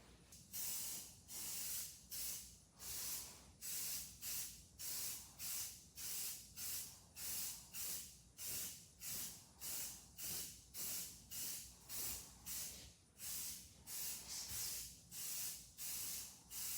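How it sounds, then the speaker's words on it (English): Primer sprays onto the passenger front fender of a 1975 Chevy C20 truck in short, regular hissing bursts from a spray gun, about twenty passes with brief pauses between them, with no talking. "today I'm going to be putting down the first coat of primer on this passenger front fender"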